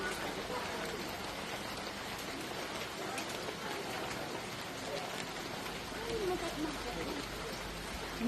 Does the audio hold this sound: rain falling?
yes